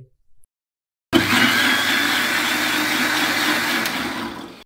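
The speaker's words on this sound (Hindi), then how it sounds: "हम मिक्सी के जार में इसको चलाकर अच्छी तरीके से मिक्स करेंगे" After a brief quiet moment, an electric mixer grinder whirs on abruptly, blending a milk kulfi mixture in its jar with a loud steady high-speed roar that continues close up without pause.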